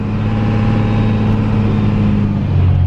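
Second-generation Cummins diesel truck cruising at about 20 mph and 2200 RPM, a loud, steady low engine drone heard from inside the cab with no shift changes.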